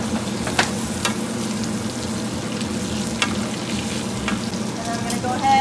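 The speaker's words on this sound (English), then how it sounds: "So now I'm gonna go ahead and just baste the steak with this butter." Steak sizzling loudly in a hot pan while being basted with butter, a dense continuous frying hiss with occasional sharper spits and pops, close up and alone.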